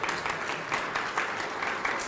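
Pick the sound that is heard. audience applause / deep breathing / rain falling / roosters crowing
audience applause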